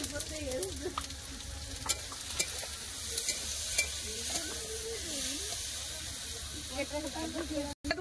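Bay leaf and five-spice seeds sizzling and frying in hot oil, a steady close hiss with occasional stirring scrapes and faint voices underneath.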